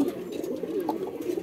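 A Giribaz pigeon coos in a low, steady, throaty murmur that rolls on without a break, close by and fairly quiet.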